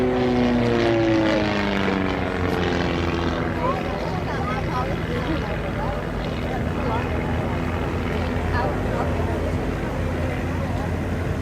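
A propeller aerobatic plane performs at the Blackpool airshow, its engine droning loud and steady throughout with pitch sweeping as it manoeuvres, a commentator talking over it.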